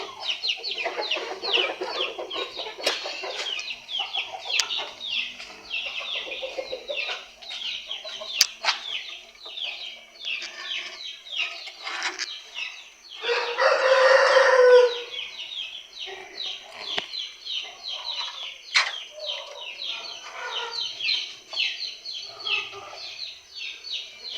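Several chickens cluck steadily throughout, with occasional louder squawks and a brief burst of wing flapping midway, close and continuous.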